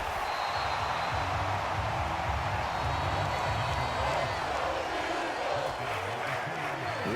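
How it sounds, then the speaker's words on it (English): A stadium crowd roars continuously in an American football video game near the goal line, a dense, loud wash of cheering that fills the whole stretch without break. "This crowd doing all they can."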